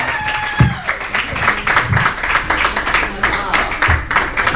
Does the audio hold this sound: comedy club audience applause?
yes